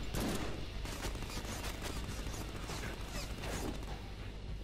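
Gunfire in the Deadpool video game crackles in steady rapid bursts, dense and continuous with mechanical clatter, moderately quiet and distant throughout.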